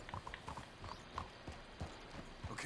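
Horse hooves clip-clop at a steady walking rhythm in Red Dead Redemption 2, moderately close and alone with no talk, a soft ambient bed underneath.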